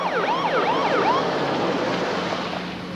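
An ambulance siren wails in a steady, looping up-and-down sweep, loud and close at first and then fading slightly toward the end, with no voices over it.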